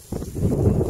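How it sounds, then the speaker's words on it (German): A sudden gust of wind buffets the microphone outdoors, a loud low rumbling rush that rises and stays steady for under a second. "Oh, eine Windböe."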